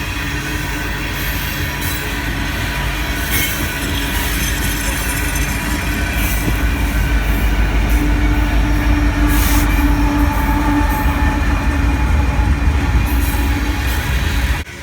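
A Union Pacific coal train hauled by SD70AH, ES44AC and ex-Southern Pacific AC44CW locomotives rolls past close by, a loud, unbroken roar of heavy railcars with faint wheel squeal and rhythmic clatter.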